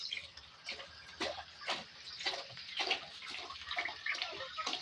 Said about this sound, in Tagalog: lalagyan na pala natin ng tubig